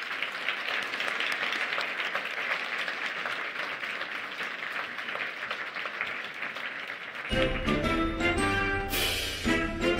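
Sustained audience applause at a televised award ceremony honouring a foster parent, a dense, steady wash of clapping that gives way to loud music in the final seconds.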